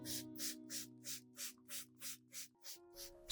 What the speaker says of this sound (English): Spraying the onion solution combined with rice water helps keep the leaves clean